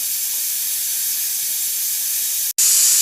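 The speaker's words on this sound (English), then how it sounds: "we just threw in the onions and the garlic. We're going to let them fry up very nicely" Onions and garlic fry in a pan, giving a loud, even sizzling hiss that breaks off for an instant near the end and then returns.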